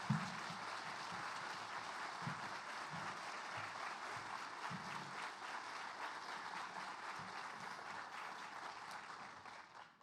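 An audience at the Six Bridges Book Festival in Little Rock applauds to welcome an author to the stage, a full, even wash of clapping that holds for several seconds before tapering off at the end.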